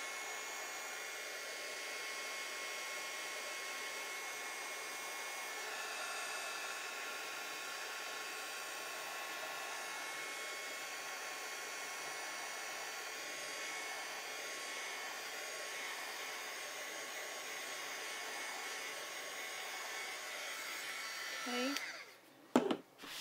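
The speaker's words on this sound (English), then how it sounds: "I'm going to just take my heat gun. This is just an embossing heat gun. And I'm just going to dry that paint." An embossing heat gun drying paint on a painted rock blows with a steady, even whirring hum for over twenty seconds, then cuts off with a brief clatter at the end.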